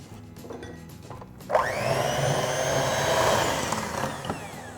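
An electric hand mixer with beaters whirs steadily through shortcake batter, starting abruptly and then holding a continuous high motor whine with slight pitch shifts, close and fairly loud.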